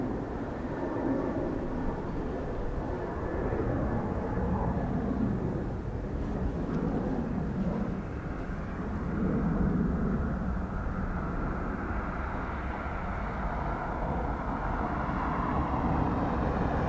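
ATR turboprop airliner at Dublin Airport during crosswind arrivals, a steady broadband engine and propeller roar that holds loud and continuous throughout, with a slight swell midway and no talk over it.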